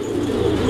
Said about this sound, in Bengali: আমরা এই মুহূর্তে দেখতে পাচ্ছি এখানে চমৎকার আরো এক জোড়া কবুতর